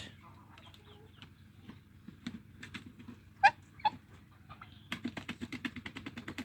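Chickens and chicks on a free-range farm give scattered cheeps and clucks, with a louder call midway and quick pecking or scratching taps building toward the end, fairly faint and close.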